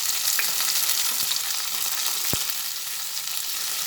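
Onion, garlic and chopped tomato fry in a pan with a steady, close, crackling sizzle, broken by a couple of sharp utensil taps.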